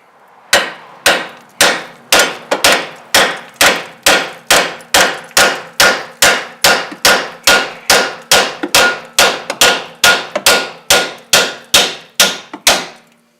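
Steel hammer striking a strut bolt with a threaded nut on it, on a 2007 Chevrolet Cobalt front strut assembly: a loud, steady run of about two dozen sharp metallic taps at an even pace, alone with no talking.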